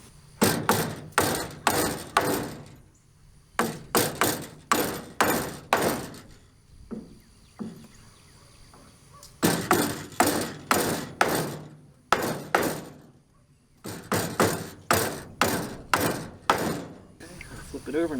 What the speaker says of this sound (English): I can break these apart and hammer them by hand